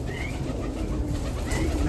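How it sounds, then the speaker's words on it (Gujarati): Pigeons coo near a well beside a custard apple tree on a farm, with soft repeated coos over a continuous rumbling background. "નકરા બેઠા કબૂતર"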